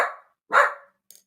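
A pet dog barks twice up close, two loud, sharp barks about half a second apart, followed by a faint brief yip.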